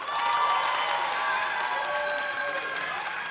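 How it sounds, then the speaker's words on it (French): A crowd applauds and cheers at a cosplay contest during a French manga fan convention, with dense, loud clapping and shouts that start strong and ease off only slightly, with no talk over them. "Je vous demande d'applaudir Pocotte, notre accessoiriste."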